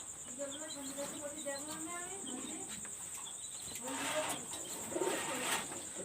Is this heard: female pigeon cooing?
yes